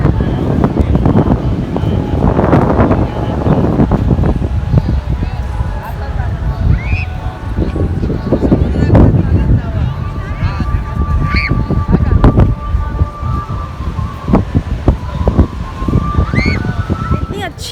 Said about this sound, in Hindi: अच्छी हवा चल रही है